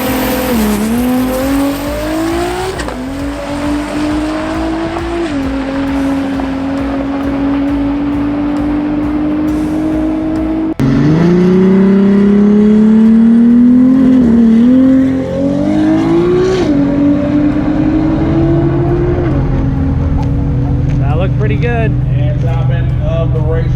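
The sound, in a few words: stock block Toyota Supra drag car launching on nitrous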